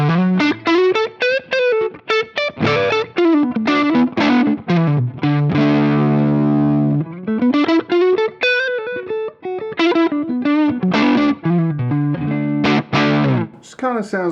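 An electric guitar on the neck pickup through a Lovepedal Mosferatu overdrive pedal plays a fast, fluid melodic run with warm, gritty distortion, loud and upfront, briefly holding a chord midway.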